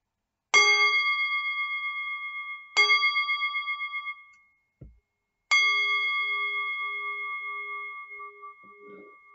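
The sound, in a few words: church bells chiming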